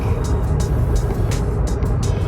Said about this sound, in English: I'm stuck in a little bit of heavy traffic